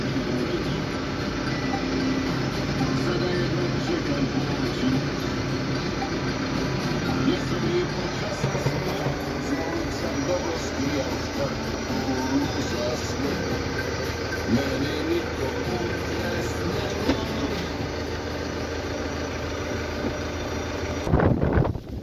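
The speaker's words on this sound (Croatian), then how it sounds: "pa ću vam sad malo snimiti kombajn i malo ga provozati" A combine harvester runs in a cornfield during the harvest on a windy day. Its engine gives a loud, continuous mechanical drone and rumble for the whole stretch, with a brief louder burst near the end.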